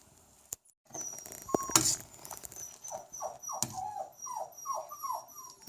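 A dog whimpers close by in a run of short, high, falling whines, after a few clattering knocks at the start.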